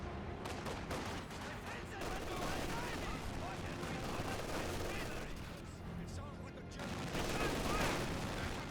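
An M16 half-track's mounted machine guns fire in a Company of Heroes 2 battle, sustained rattling bursts mixed with other gunfire at constant volume while someone talks over it.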